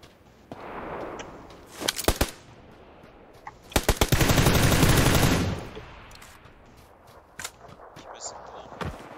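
Gunfire in an online battle-royale shooter: a pair of close shots, then a loud automatic burst and sustained rattle, followed by scattered distant single shots, with people talking over it.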